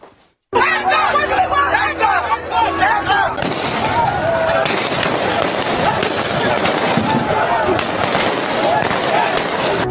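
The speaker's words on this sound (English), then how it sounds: "Sounds of gunfire have exploded on the streets in Nigeria's commercial capital, Lagos" Dense, continuous gunfire cracks and bangs ring out in rapid bursts on a street in Lagos, Nigeria, during a protest, mixed with a murmur of crowd voices and noise through the whole stretch.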